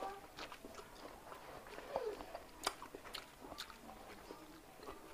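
Someone bites into a crunchy, moderately ripe mango, producing a few faint, crisp crunches and chewing sounds, quiet and close with soft background noise.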